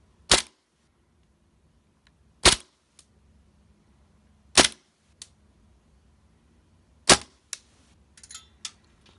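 Airsoft pistol shooting .12g BBs through a chronograph: four sharp, loud cracks at a steady spacing of about two seconds, followed by a few fainter clicks and rattles, with no talking.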